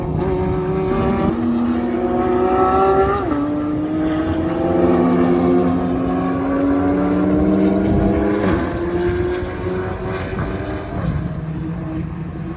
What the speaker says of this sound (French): Alors là, on a une Alpine et derrière, il y a les Porsche qui arrivent.